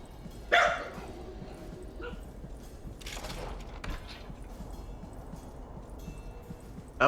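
A dog barks in the strategy game Pandemic Train, with one sharp bark near the start, a softer burst partway through and another at the very end, over low game background noise.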